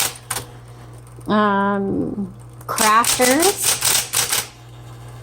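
A pink 1970s Smith Corona Electra 220 electric typewriter being typed on in a burst of rapid, close keystrikes, with a steady motor hum running underneath and a person talking before the typing.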